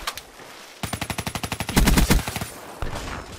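Rapid automatic gunfire from a first-person shooter video game, a loud close burst of evenly spaced shots followed by heavier overlapping blasts, then a fainter shot near the end.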